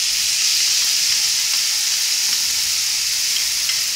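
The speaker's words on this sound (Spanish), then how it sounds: "sofreímos. Pimiento con la cebolla." Pepper and onion sauté in a pan with a loud, steady, close-up sizzle that stays even and unbroken throughout, with no voices.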